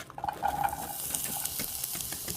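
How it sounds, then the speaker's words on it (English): Onions and peppers hitting melted bacon grease in a pan, a steady close sizzle and hiss with a few stirring scrapes, no voices, while cooking shrimp creole. "Now we're going to go ahead and add our onions and peppers to the pan."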